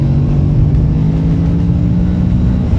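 A Kawasaki Z650RS motorcycle engine drones at a steady, loud rev close by, holding a constant pitch without rising or falling through the short stretch.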